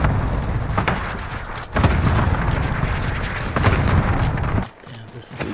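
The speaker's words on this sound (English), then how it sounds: "Cluster strike away." Cluster airstrike in a video game, a run of heavy rumbling booms and blasts rolling on for several seconds, loud and dense before dropping off near the end.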